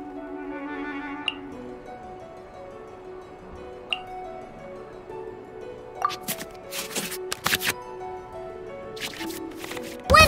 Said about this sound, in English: we can select any number of cards in our hand to shuffle back into the draw pile